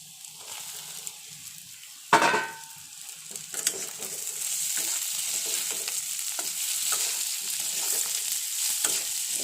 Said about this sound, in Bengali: এবার আমি মাশরুমগুলো দিয়ে দেবো